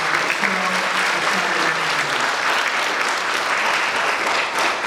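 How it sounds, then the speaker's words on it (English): Graduation ceremony audience applauding the graduates, a dense, steady wash of clapping from a large crowd that carries on unbroken for the whole stretch, with a brief low voice near the start. "Applause to you all."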